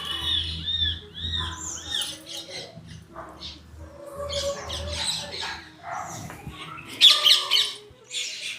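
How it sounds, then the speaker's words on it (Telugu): Parrots chattering outdoors near a house: a lively run of harsh squawks and chirps that overlap irregularly, fairly near, with a louder burst of calls toward the end. "చిలకల సందడి చూసారా"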